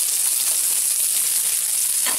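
Lentils and pumpkin frying in a pan, a steady, loud sizzle running without break for the whole stretch, with a brief stir or scrape near the end.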